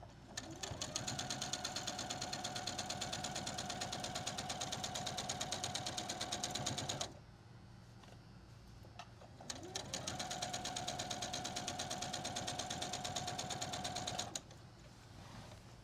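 A sewing machine runs steadily along a long quilt seam in two sustained bursts with a brief pause between them, the motor's even whir close and moderately loud.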